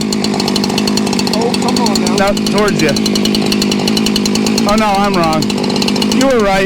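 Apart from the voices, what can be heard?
Husqvarna 572 chainsaw running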